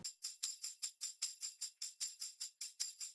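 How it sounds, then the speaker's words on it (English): A looping tambourine part for a pop country chorus, with steady evenly spaced jingle shakes, about five per second, bright and crisp, alone and without voices. "I do have this tambourine loop going on in the chorus"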